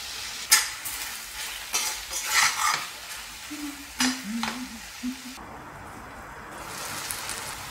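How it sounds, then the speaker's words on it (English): Onions, crushed garlic and chopped tomatoes stir against a pan in two tablespoons of oil, giving soft crackling sizzle with scraping strokes and clinks, fairly close and steady, easing off near the end. "So in a pan with 2 tablespoons of oil, onions that I saute until they're translucent"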